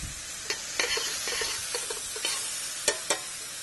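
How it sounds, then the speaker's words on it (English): Shrimp pappardelle ingredients with prosciutto sauté in a pan: a steady close sizzle runs throughout, with scattered light clinks and scrapes of stirring. "We'll kind of saute that all together."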